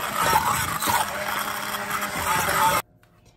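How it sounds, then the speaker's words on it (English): Hand blender whirring steadily as it mixes ingredients with added salt in a kitchen, a loud buzzing motor running for nearly three seconds before cutting off abruptly into near silence. "now I like to use the hand blender"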